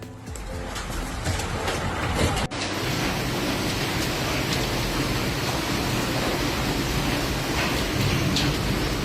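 Heavy hail and rain pounding down in a violent South African ice storm, a dense, steady roar of impacts throughout, loud and close, with one sharp knock partway through.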